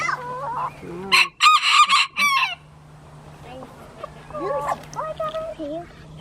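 Chickens cluck and a rooster squawks over a steady background hum, with a few loud bursts of crowing near the start.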